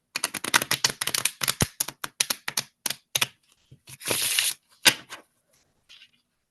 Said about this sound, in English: my shuffling is a little bit weird tonight.